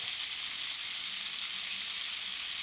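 Fat sizzles and spits steadily in a cast iron skillet on a camp stove, a close, constant bright hiss that carries on without a break and with no voices.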